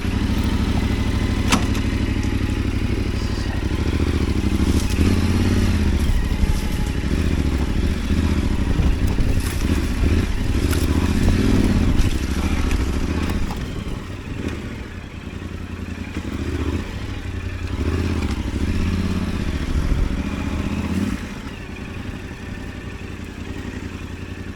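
A Yamaha Tenere 700 adventure motorcycle ridden on a flat tire along a forest track, its mid-pitched engine droning loud and close with clattering and thumps from the rough ground, no talk.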